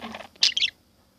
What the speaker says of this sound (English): They're birdies.